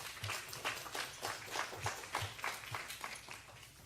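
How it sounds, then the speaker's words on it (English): Round of applause from a dinner audience at a Women's Foreign Policy Group 20th anniversary celebration, many hands clapping in a brisk uneven patter, moderately distant and fairly quiet. "Let's give her a round of applause."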